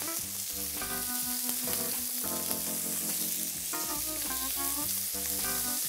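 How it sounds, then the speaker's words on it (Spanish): Pieces of wild boar meat sear in well-spread fat in a frying pan, a steady bright sizzle running the whole time beneath loud background music. "Vamos a añadir en el fondo de esta sartén, con la grasa bien repartida, nuestros pedazos de carne"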